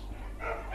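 A dog gives a short, close bark or yip, a single brief burst against a low background rumble.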